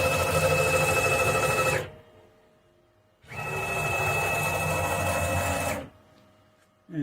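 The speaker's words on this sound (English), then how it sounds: "this is being driven by the single motor over here" A homebuilt CNC machine axis driven by a single motor whines in two long steady runs with tonal stepper hum, separated by a brief pause, loud and close.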